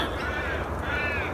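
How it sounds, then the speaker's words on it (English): Little ravens cawing at dawn in March, two drawn-out, nasal caws close by against a steady outdoor bird chorus. "the little ravens."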